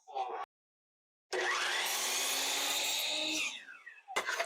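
A miter saw tilted to a 10-degree bevel cuts the end of a wooden board in a garden planter build, a loud steady whining cut of about two seconds that follows a brief burst of motor sound and then a short silence.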